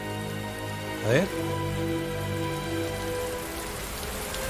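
Rain falls in a steady, dense patter throughout, while someone speaks briefly over it near the start.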